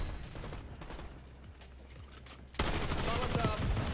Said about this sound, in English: Enemy shooting.